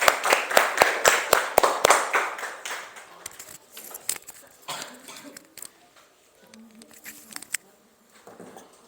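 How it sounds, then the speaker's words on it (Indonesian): A small classroom group claps in a quick, fairly near burst of distinct hand claps that fades after a couple of seconds, followed by quiet room noise and brief low voices. "Tepuk tangan dulu."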